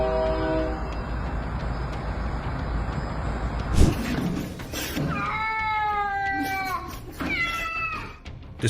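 A cat meows several times in the second half, each call clear and fairly close, after a steady low rumble of a passing train fades out.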